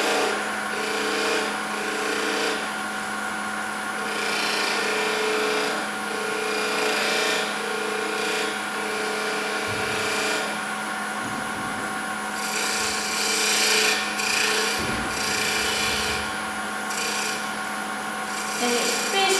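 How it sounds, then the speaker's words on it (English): A spindle gouge cuts a hat-shaped piece of wood spinning on a lathe, giving a steady whining hum with rasping scrapes that rise and fall as the tool moves. A voice talks over it. "I'm using the spindle gouge so that I can get that nice"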